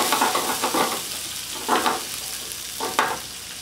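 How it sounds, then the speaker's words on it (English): Carrots, green beans and red pepper sauté in a pan with salt-free garlic and herb seasoning: a soft, steady sizzle broken by several quick scraping stirs, close and fairly quiet, with no talking. "So as we saute that, we're only going to saute this for 3 or 4 minutes."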